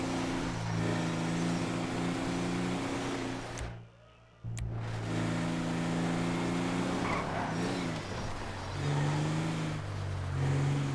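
A car drives through an upmarket neighbourhood of Los Santos in GTA V, its steady engine drone loud and continuous apart from a brief dropout midway, with shifting revs and some tyre noise.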